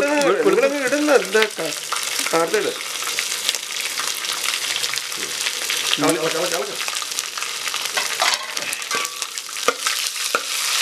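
Ginger, green chili and garlic sizzle in hot oil while being stirred, a steady crackling fry with scraping stir strokes and a brief voice or two breaking through at moments.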